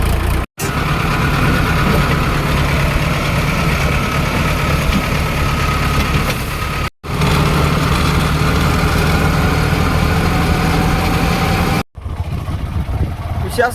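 A tractor engine runs steadily and loudly up close, a continuous low rumble that cuts out briefly twice before resuming.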